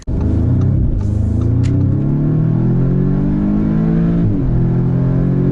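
A 2019 Audi S3 engine revs hard and close at full throttle, rising in pitch as it accelerates, dips briefly after a gear change, then climbs again, loud and unbroken.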